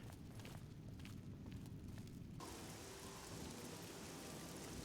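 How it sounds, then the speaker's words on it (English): Rain falls steadily in the city of Anvil in the game The Elder Scrolls IV: Oblivion, a faint, dense hiss of drops with a low rumble beneath, brightening partway through, and no voices. "A rainy day in Anvil."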